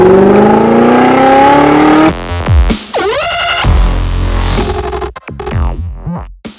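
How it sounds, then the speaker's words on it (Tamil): A KTM Duke 200cc motorcycle engine revs loudly and close by, rising in sharp throttle sweeps with rapid pitch climbs and drops, then short blips near the end. "நம்ம இப்போ பார்த்துட்டு இருக்கிறது KTM டியூக் 200cc பைக்கை பற்றி பார்த்துட்டு இருக்கோம்."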